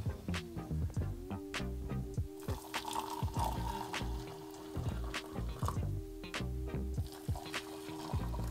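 Boiling water poured from a kettle into cups of 3-in-1 instant coffee, a steady close trickle broken by clinks and small knocks, with no voices.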